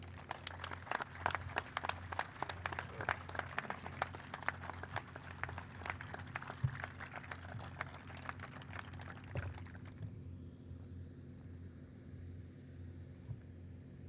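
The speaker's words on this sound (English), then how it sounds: "Please welcome this lifelong patriot with a big round of applause" An audience at an outdoor Vietnam memorial ceremony applauds, a scattered, moderately distant patter of clapping over a steady low rumble that stops abruptly, leaving only the background hum.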